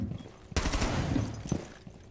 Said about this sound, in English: Is that a shotgun?